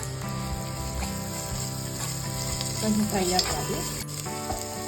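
Onions fry with ginger garlic paste in a pan for mandi biryani rice, a loud, close, continuous sizzle with stirring scrapes and brief spatters partway through, no talking.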